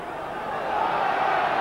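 Rugby league match crowd letting out a broad, sustained groan, a dense wash of many voices that swells slightly and holds loud throughout.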